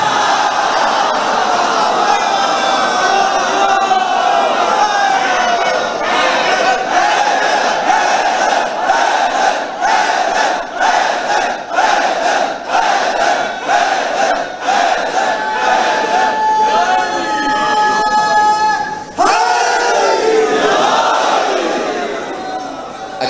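Congregation at a Shia majlis in an imambargah chanting religious slogans together, a loud, continuous rhythmic mass chant with repeated pulsing calls, ending in a shorter burst of voices.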